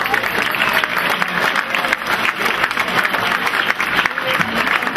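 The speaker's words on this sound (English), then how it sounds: "Give yourselves a round of applause." A packed dining room at the Cape Cod & Islands Democratic Party Jefferson Jackson Dinner bursts into loud, sustained applause, dense overlapping clapping from a large crowd filling the whole stretch with no lull.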